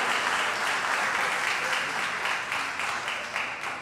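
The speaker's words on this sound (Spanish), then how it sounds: "Aplauso nuevamente, señoras y señores, para nuestros jóvenes ganadores." Sustained audience applause for young winners of the international First Lego League robotics competition, dense steady clapping from a large crowd holding even for the whole stretch with no pauses.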